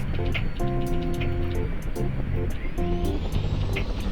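An airplane's engine drones in the physics puzzle game Human Fall Flat, a buzzing, tonal hum that pulses on and off in uneven bursts over a constant noisy whoosh.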